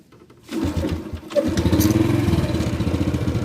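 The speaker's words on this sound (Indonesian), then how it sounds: "genjot motor sampai hidup" A motorcycle is kick-started until the engine fires, then settles into a steady, pulsing run close by.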